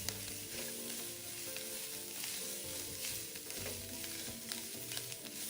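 Shredded white radish and taro stir-fry in a wok over high heat, a soft but steady sizzle broken by repeated scraping and tossing strokes of the spatula, heard alone with no speech.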